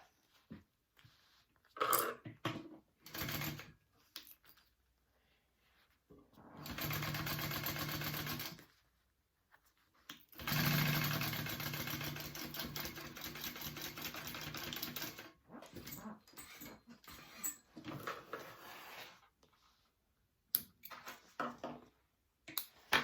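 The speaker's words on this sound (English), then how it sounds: "I'm going to come up and sew it on to my bag" A sewing machine stitches fabric onto a handbag in short bursts of rapid mechanical whirring, two longer runs standing out between pauses and scattered clicks of handling, all fairly quiet and close.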